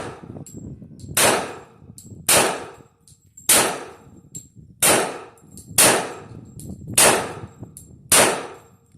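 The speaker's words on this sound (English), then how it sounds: "up next we got a Springfield Armory Operator" Pistol shots from a Springfield Armory Operator 1911 ring out at an outdoor range, seven loud separate reports about a second apart, each followed by a metallic clang of rounds striking a steel target.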